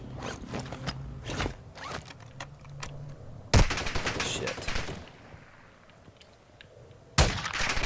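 Sharp, loud gunshots from Warzone 2.0, a few quick cracks early on and then two heavy blasts later, with quieter clicking game sounds between.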